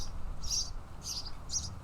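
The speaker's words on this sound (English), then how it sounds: "There's the birds again." Newly hatched nestlings or parent birds chirping near a nest, three short high bursts of tweeting spaced about half a second apart over a low rumbling background, fairly faint and with no talking.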